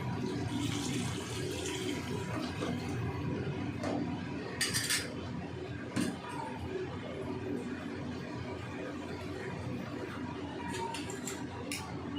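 Spices and water being stirred together in a bowl in a home kitchen before cooking hilsa fish, with steady clinks of a utensil against the bowl and light sloshing, close and continuous with a few sharper knocks.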